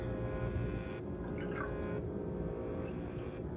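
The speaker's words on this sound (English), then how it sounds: "Maple syrup and vanilla." Maple syrup and vanilla trickling into a bowl of milk for brownie baked oats, a faint, steady liquid drip and gurgle close by with no talking.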